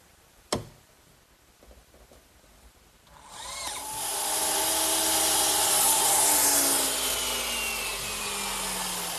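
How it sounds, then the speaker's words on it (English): A saw in a miter box cuts through a tongue-and-groove cedar piece for a blanket chest, starting with a sharp knock and a few light scrapes, then a loud, sustained, steady cutting rasp close by. "I'm using my miter box to cut all my pieces of cedar"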